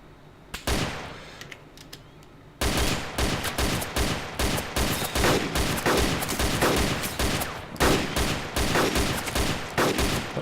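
Rapid bursts of automatic gunfire from the video game DayZ, loud, dense cracks in quick succession after a couple of isolated shots, continuing almost nonstop.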